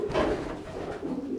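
Long-distance racing pigeons at a breeding loft give a soft, low, throaty coo, close by and steady through the short moment.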